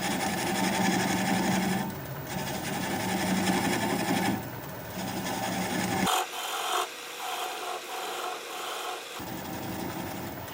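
A wood lathe turns a sassafras bowl at about 400 RPM, giving a steady, close rasping scrape from the tool cutting the spinning wood, with a few short breaks in the cut.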